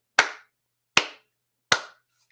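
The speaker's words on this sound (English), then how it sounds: "clap 3 times. That puts big spikes on your audio tracks, both audio tracks." Three sharp, evenly spaced hand claps, close and loud, each ringing out briefly into silence, made to mark audio tracks for syncing.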